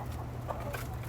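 Hens on a small organic egg farm cluck in short, soft bursts over a steady low background, fairly close but not loud.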